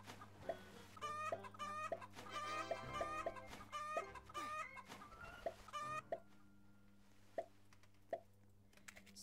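Chicken clucking in the Roblox game Egg Farm Simulator: a run of quick, rhythmic clucks and squawks close up, with soft plopping pops and a steady background hum, becoming sparse single clucks toward the end, no voices.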